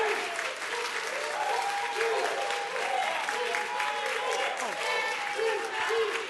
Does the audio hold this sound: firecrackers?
no